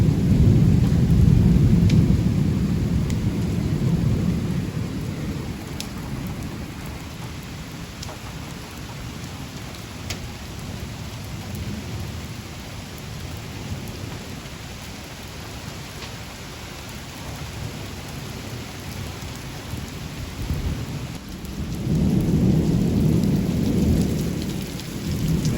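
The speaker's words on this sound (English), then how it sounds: "Never seen golf ball size hail before." A hailstorm with golf-ball-size hail pelts down hard in a continuous loud clatter and hiss, while deep thunder rumbles swell at the start and again near the end.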